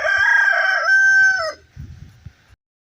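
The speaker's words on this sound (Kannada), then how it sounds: "ಯಾವುದೋ ಒಂದು ಕೋಳಿ ಆಗ್ಲಿಂದ ಕಿರ್ಚಿ ನೋಡಿ" A chicken crows nearby in one long, loud call that fades out, followed by a few soft low clucks and rustles before it goes quiet.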